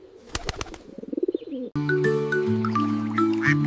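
A pigeon gives a soft, rapid run of throaty coos over a second or so, then upbeat music cuts in and carries to the end.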